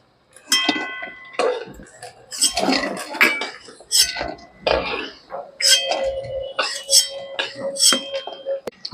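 Fried egg pakoras lifted out of a pan of oil, with clinking utensil taps and scrapes against the pan in an uneven series, mixed with a faint sizzle and bits of nearby voice.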